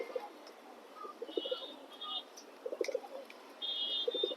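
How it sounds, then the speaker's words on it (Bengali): Racing pigeons, including a red checker, coo softly in low, rounded phrases at close range in a quiet loft, with a few higher chirps between the calls. "এগুলো কিন্তু অনেক সুন্দর চোখের কবুতর"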